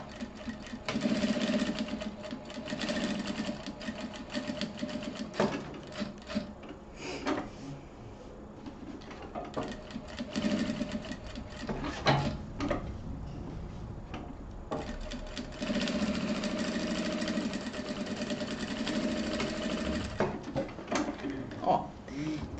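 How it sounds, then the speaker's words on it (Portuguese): A sewing machine stitches a wallet flap in bursts of rapid mechanical chatter with brief pauses between runs, the steady whir rising and stopping several times, close and moderately loud. "Então eu vou aqui costurar."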